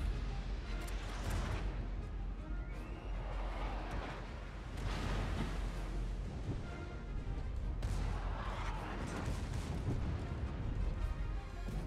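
Secondary guns firing in the World of Warships naval video game, a dense, continuous barrage of booming shots and crashes layered over one another for the whole stretch, loud and steady with no speech.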